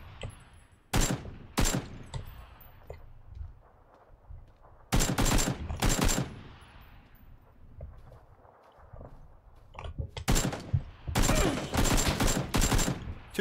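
Bursts of gunfire in PUBG, with repeated loud rapid volleys in several clusters and quieter rustling and footstep-like movement between them.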